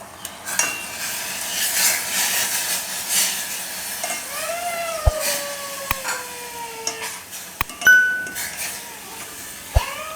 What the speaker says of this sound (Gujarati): તો આને હવે ઉકાળી લઈએ આપણે